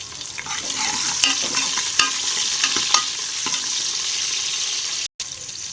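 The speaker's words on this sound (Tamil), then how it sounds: "அடுத்து கருவேப்பிலை அடுத்து சின்ன வெங்காயம் கொஞ்சம் பொன்னிறமாக கொஞ்சம் வதக்கி விடணும்" Steady sizzle of curry leaves and small shallots frying in oil in a pan, with occasional spoon stirs and clinks over the continuous crackle.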